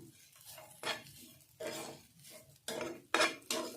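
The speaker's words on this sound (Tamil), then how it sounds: "தேங்காய் போட்டு நல்லா வறுத்து எடுத்துக்கலாம்" Grated coconut being dry-roasted in a pan for somas filling, with a spoon scraping and clinking against the metal in several sharp bursts between quieter stretches of stirring.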